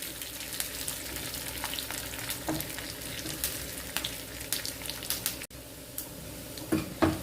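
Tempering for a Tamil Nadu-style radish and dal sambar sizzling and frying in a pan, a steady crackling hiss with occasional pops and stirring scrapes, close and continuous, with a brief break near the end.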